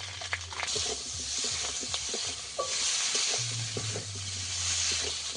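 Spiced curry of potato and pointed gourd with turmeric and chilli powder sautéing in a hot pan, a steady close sizzle with stirring scrapes and light crackles throughout.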